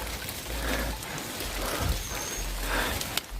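Light drizzle falls on a mountain trail up Mount Slamet via Guci, a soft, even hiss of rain that stays quiet and steady throughout, with no talking.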